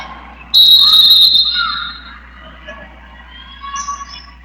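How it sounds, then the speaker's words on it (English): A referee's whistle blows sharply during a high school girls' basketball game, a loud sustained shrill tone over crowd murmur, halting play after a player goes down with a nose injury. "and a whistle will stop play."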